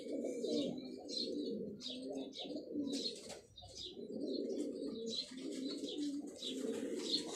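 Large-bodied fancy pigeons in Karachi coo repeatedly in soft, throaty bursts, with a few brighter chirps between them, close by and without talk.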